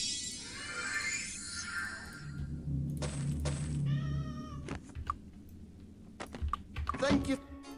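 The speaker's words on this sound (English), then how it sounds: "my cat is getting very impatient" A house cat meows several times close by, its cries mixed with tapping on a computer keyboard and the faint sounds of a Might and Magic 7 game playing in the background.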